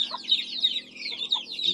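A Belgian Leghorn hen clucks in a series of quick, close cackling notes, fairly loud, with no talk over it.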